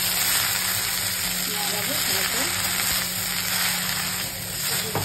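Jute leaves fry in a pan with garlic, black cumin and chopped green chili, giving a loud, steady sizzle throughout with faint stirring sounds.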